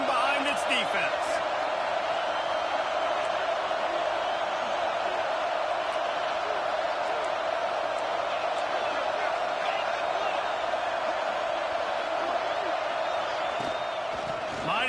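A college football stadium crowd, Clemson against South Carolina, roars steadily for the defense near the goal line, a loud continuous wall of cheering with a commentator talking over it.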